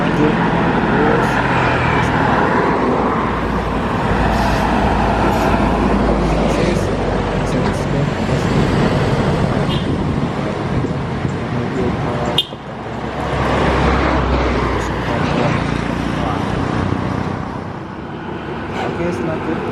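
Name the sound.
bus driving on road in Sumatra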